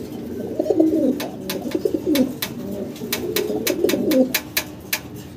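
A pair of fancy pigeons coo in low, repeated throaty phrases, close by, with sharp clicks and taps scattered through the sound.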